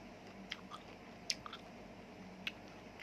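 Crisp bites and crunching chews of a sour mango, close up and quiet, with a few sharp crunches standing out over a steady background hiss and no talking.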